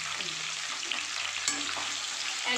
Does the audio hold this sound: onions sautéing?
yes